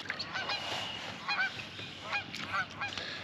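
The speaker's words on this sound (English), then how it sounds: "Noisy geese here." Geese honking by a lake with lily pads in spring in Michigan, heard from a kayak: repeated nasal honks from several birds at a moderate distance, spaced irregularly over steady outdoor ambience.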